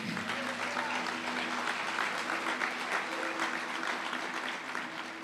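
A church congregation applauds during a worship service, steady sustained clapping from many hands in a reverberant room, with a faint held musical tone underneath.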